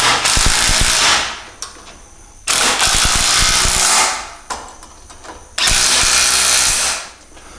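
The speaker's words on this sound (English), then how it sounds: "Now we'll grab our impact with our 9/16 socket and our 9/16 wrench, and we'll go to all the bolts on these flanges and tighten them down" Impact wrench with a 9/16 socket tightening flange bolts while fitting an ArmorTech game loader to a CF Moto U10 Pro 1000, three loud sustained rattling bursts of a few seconds each, separated by short pauses.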